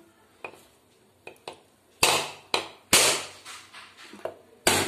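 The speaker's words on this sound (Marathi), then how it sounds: "तर नारळ कसा हा ओला करून घेतलाय. ओला केला की कसं पटकन फुटतो सुद्धा आणि वेडा वाकडा फुटत नाही." A wet coconut is struck repeatedly in a kitchen, with sharp, loud cracking knocks in an irregular series, the hardest blows coming in the second half, with no talk.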